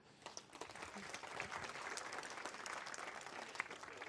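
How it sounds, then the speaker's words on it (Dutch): Audience applause at a village community evening in Aldeholtpea, a sustained dense wash of clapping from a seated crowd lasting several seconds at steady moderate loudness with no talk over it. "Een applaus graag."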